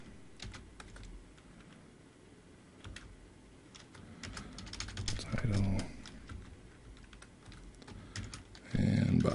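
Quiet computer keyboard typing of HTML document tags, bursts of clicking keystrokes with pauses, close and faint, ending in a louder thump.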